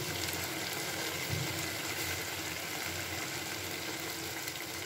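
Amudi fish curry, a village-style chochchori, simmering uncovered in a pan as its gravy cooks down, giving a steady, even bubbling sizzle that holds at the same level the whole time, with no voices.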